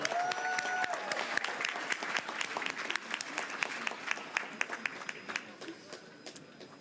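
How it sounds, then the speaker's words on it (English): Applause from an audience for TTC transit employees at the Finch West LRT opening event in Toronto, a steady wash of many hands clapping throughout, gradually thinning toward the end. "Give them a big round of applause"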